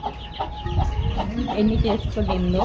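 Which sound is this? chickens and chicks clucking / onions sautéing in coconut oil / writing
chickens and chicks clucking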